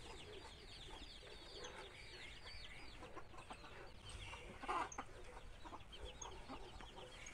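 A chicken clucks repeatedly at a small rural farm plot, with a brief louder squawk midway over steady outdoor background noise.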